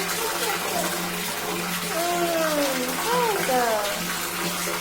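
Tap water runs steadily into a bath during a child's bathing, a continuous splashing rush heard up close while voices chatter over it.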